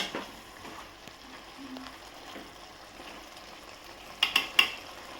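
Chicken sukka being stirred in a pan, with a soft steady sizzle and a few sharp scraping clicks near the end as the spoon moves through the mix.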